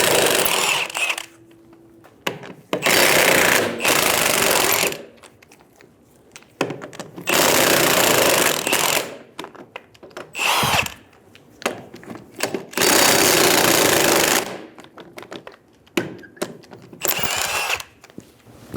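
Power tool with a 19mm socket spinning off the lug nuts on a 2000-2007 Ford Focus, several loud close bursts of whirring and rattling separated by short quiet gaps.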